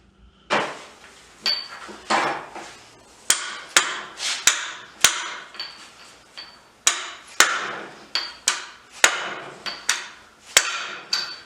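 Sharp hammer whacks on metal while installing a Toyota 7.5 IFS differential with a Spartan locker: about two dozen close, loud strikes in uneven bursts, some in quick pairs, with short pauses between.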